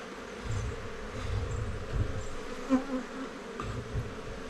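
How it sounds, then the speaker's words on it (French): A continuous low buzzing of many honeybees swarming close by around a declining hive in a February apiary, droning steadily with slight swells as individual insects pass. "Les abeilles volent un peu dans tous les sens."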